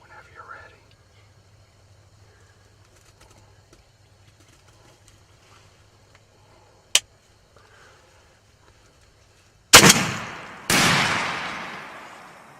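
A single sharp shotgun blast rings out during a Florida youth Osceola turkey hunt, preceded by a brief crack and quiet whispered voices, then the loud report echoes and fades with a second burst of noise.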